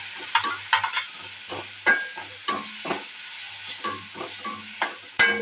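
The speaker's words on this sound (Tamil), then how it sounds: "இப்போ இது கூட மிளகாய்த்தூள், மஞ்சள் தூள் சேர்த்துடலாம். நல்லா வதக்கி விட்டுக்கலாம்." Chili powder and turmeric are sautéed in a pan for masala sundal, with repeated scraping stir strokes and a soft sizzle in an irregular rhythm, close and fairly quiet, with no talking.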